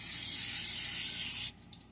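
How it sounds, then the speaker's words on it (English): Cooking spray hisses onto a work surface before pizza dough is rolled out, one steady close-up burst of about a second and a half that cuts off sharply, leaving a quiet room. "so you're going to spray your work surface"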